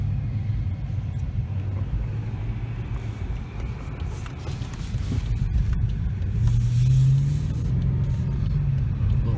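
A BMW's engine roars with a low, steady drone while the car is driving at a charity test drive event, the pitch climbing partway through as it accelerates, heard from inside the cabin.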